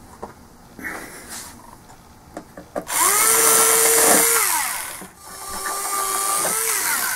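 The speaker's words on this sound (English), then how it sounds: "I'll just put a piece of plywood in there and then re-drill it." After a few knocks, a power drill whirs loudly twice, spinning up and winding down in two bursts at close range.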